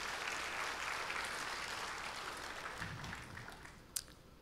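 Church congregation at an Indonesian Sunday sermon bursts into sustained, fairly loud applause that holds steady and then gradually thins, with a sharp single clap near the end.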